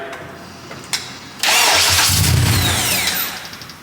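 A Honda Integra Type R with a swapped-in K24 engine cranks briefly on its first start and then fires up, settling into a loud, steady idle with a slight rev, heard up close.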